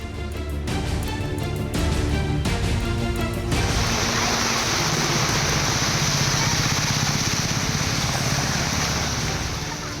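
Dense, steady roar of heavy rain pouring down, with a few irregular knocks and clatters in the first seconds before the downpour fills everything.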